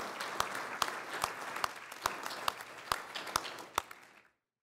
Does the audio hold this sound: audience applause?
yes